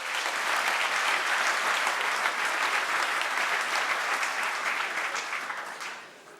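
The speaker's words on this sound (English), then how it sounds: "Can we applaud them, please?" Members of parliament applaud taxpayers during a budget speech, a broad, steady burst of clapping from many hands that holds for several seconds and then fades away.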